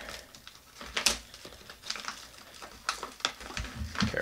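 Close, crisp crinkling and scattered scraping clicks as a yellow mailing package is cut open, irregular bursts of plastic and paper rustle with brief pauses, no talking.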